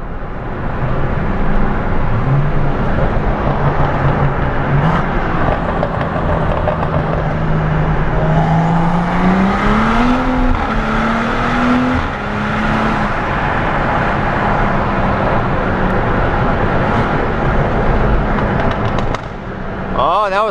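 A V6 car's exhaust burbles and rumbles continuously inside a tunnel in Sport Plus mode, loud and reverberant, with engine pitch rising and settling and sporadic crackles echoing off the walls throughout.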